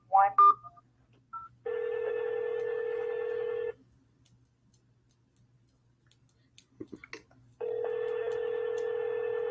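An automated Intertel voice-processing phone system plays two long steady tones a few seconds apart, with faint clicks and brief chirps in the quiet gap between them.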